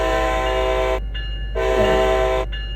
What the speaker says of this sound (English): Use the horn to notify others around that this locomotive is about to start moving. Do this with 2 short blasts.